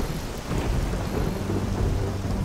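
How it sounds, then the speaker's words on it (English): Heavy rumbling crackle of a Quest for Glory lightning zap effect reused in the game HeXen, a loud, dense, noisy roar with storm-like texture sustained throughout and no voices. "doesn't use the lightning sound effect from the game, but does use a Quest for Glory sound effect"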